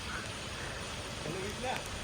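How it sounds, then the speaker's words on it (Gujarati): Rain falls steadily during an outdoor village cricket match at Lodai–Khengarpar, a constant broadband hiss of drops filling the whole stretch without pause. "હજી વરસાદ ચાલુ પડે રહ્યો"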